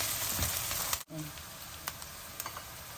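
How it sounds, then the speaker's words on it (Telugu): Onions frying in a pan for a gongura chana dal curry give a steady crackling sizzle, with a brief dip in the middle and a few small pops afterward. "ఉల్లిపాయలు వేగుతున్నాయి కదా కొంచెం పసుపు కూడా వేసేద్దాం"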